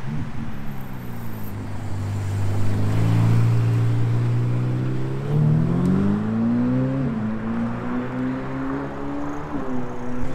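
A Ferrari F8 supercar at a charity supercar event accelerates past, its engine note climbing loud and close in a sustained, rising howl that peaks midway and eases slightly as it continues.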